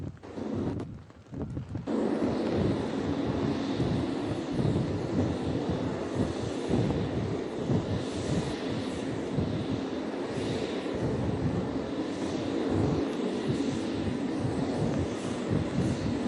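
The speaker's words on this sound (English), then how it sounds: "Each aircraft will execute a well-honed strafe pattern, diving at nearly 30 degrees straight at the target" F-18 fighter jets dive in a strafe pattern during a US Navy 250th anniversary demonstration at sea. After a brief quieter start, a loud, sustained, rushing jet roar sets in, mixed with wind buffeting the microphone.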